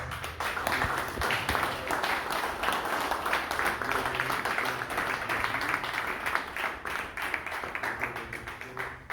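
Audience at the closing of a reflection triduum on association statutes applauding themselves, a steady dense clapping that fills the whole stretch at moderate loudness with some murmur underneath.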